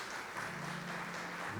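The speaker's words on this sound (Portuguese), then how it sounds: "Muitos aplausos para essas três figuras maravilhosas." Audience at an LGBT+ aging seminar in Brazil applauding, a steady wash of clapping from a seated crowd, moderately quiet and continuous, with faint voices underneath.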